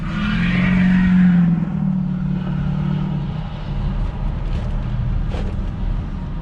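Car pulling away from a stop on a DoorDash delivery run, a steady loud engine drone with a higher whine that eases off as the car rolls on.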